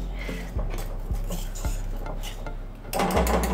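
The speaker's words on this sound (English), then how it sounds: "definitely use the whisk because you want to make sure it doesn't get a lot of clumps in it" A whisk beats a thick, smooth chickpea tofu batter made from two ingredients in a pot: rhythmic dull knocks and scraping strokes against the pot, close and fairly loud, with a brief louder clatter near the end, no voices.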